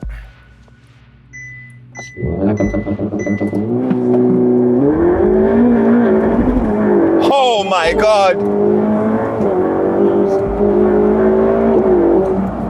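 Ferrari 488 Pista accelerating hard on a track, engine note climbing through rising revs with quick gear shifts, loud and close from inside the car, with an excited exclamation over the roar.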